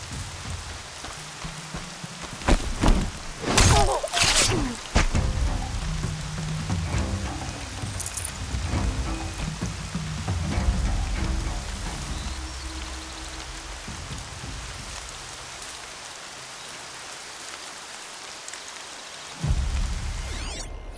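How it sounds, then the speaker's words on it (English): Steady rain falls throughout, a continuous hiss with a few louder bursts near the start and a low rumble that could be distant thunder, with no talking. "Rain's not so bad."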